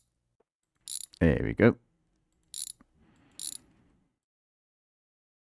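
Ratchet wrench clicking through a few short bursts while undoing cylinder head bolts in the My Garage salvage-rebuild game, loud and close, with a brief spoken remark and faint mechanical rattle afterward.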